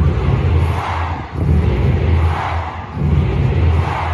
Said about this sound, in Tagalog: Yan ang sigawan